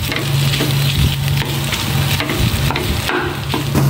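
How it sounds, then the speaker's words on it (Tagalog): Fermented rice buro sautéing with garlic and onion in a pan, a steady close sizzle and crackle running throughout with occasional stirring scrapes. "Igigisa na lang to sa bawang sibuyas"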